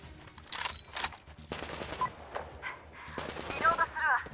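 Enemy gunfire in Metro Exodus comes as scattered sharp bursts and shots at moderate distance, interleaved with quieter gaps and some game noise, with no clear talking in between.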